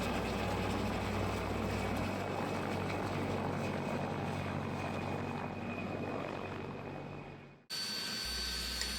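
A helicopter rotor runs a test with a loud, steady whirring drone that cuts off abruptly near the end, then resumes briefly, aboard an Antarctic expedition ship.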